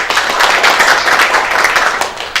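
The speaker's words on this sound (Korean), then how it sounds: "큰 박수 부탁드립니다" Audience applause at a Democratic Party welcome ceremony for card-fee reform, a steady, dense patter of many hands clapping close by that holds for the whole stretch with no voices.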